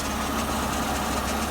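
A flood-damaged 2004 Mercedes SLK 320 engine idles with a steady, rough, low rumble, continuous and close throughout the short stretch.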